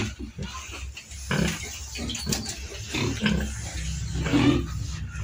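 A sow and her month-and-a-half-old piglets in a pen, grunting and squealing in overlapping bursts close by, with a continuous murmur of farm noise between calls.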